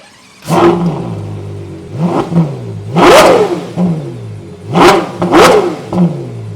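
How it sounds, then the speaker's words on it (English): A Ferrari Purosangue with a quad tip exhaust is revved hard in a series of loud, close blips, six or so sharp rises and falls with pauses between them and no talk. "And you have a quad tip exhaust. And on that note, let's have a listen."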